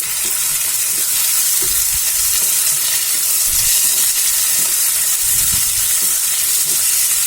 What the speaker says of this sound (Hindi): अब इसमें मैं टमाटर डालूंगी। इसे भी हम मिला देंगे।